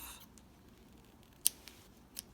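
Two quick, sharp snips of scissors cutting yarn, the first crisp and the second softer, close and quiet against faint room noise.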